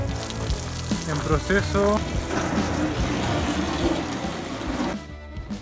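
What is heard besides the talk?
water sprayed over newly installed camper van windows for leak test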